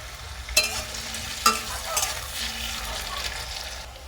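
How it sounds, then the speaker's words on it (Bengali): A soft, steady sizzle of potatoes frying in a pan, broken by two sharp clinks of a utensil against the pan near the start. "আলুটা খুব ভালো করে লাল লাল করে একেবারেই ভেজে নেব"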